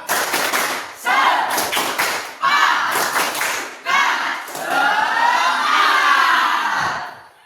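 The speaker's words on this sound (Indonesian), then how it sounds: "Tepuk semangat." A school class performs the rhythmic tepuk semangat spirit clap, patterned bursts of group clapping broken by short gaps, with children's voices chanting and shouting along near the end.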